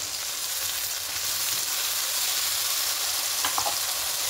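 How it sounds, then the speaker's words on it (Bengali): Onion and tomato frying in a pan, a steady close sizzle with a faint clink of a utensil near the end. "পেঁয়াজ টমেটো নরম হওয়া পর্যন্ত একটু ভেজে নেব"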